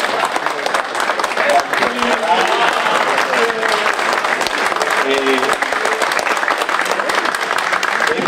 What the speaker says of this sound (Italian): quindi applaudiamo anche lui